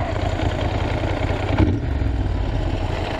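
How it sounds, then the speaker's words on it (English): A motorcycle engine idling nearby with a rough, rattly low rumble, steady and loud throughout the short stretch. "It's all rattly and like a proper motorbike should be."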